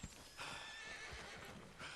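Horse in the video game Red Dead Redemption 2 gives a short whinny alongside a few clip-clopping hoof steps, quiet and close, with no talk.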